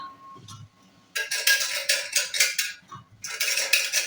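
A tin container oiled for dhokla batter is handled, with metallic clinks and scraping clatter in short bursts. A quiet pause comes before the louder rattling, which repeats near the end.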